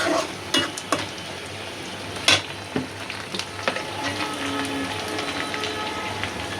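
Bay leaf and cinnamon frying in hot oil crackle in sharp, irregular pops over a steady sizzle, with one loud burst of spattering partway through.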